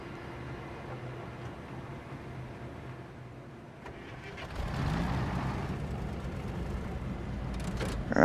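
An off-road truck in Expeditions: A MudRunner Game sets off, its engine a low steady hum for a few seconds before swelling into a louder, rougher rumble that keeps building toward the end.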